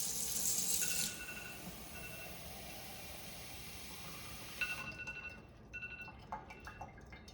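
Water from a tap runs during a 30-second flush for a drinking water sample, a faint hiss that stops after about a second, followed by quiet dripping and small clinks.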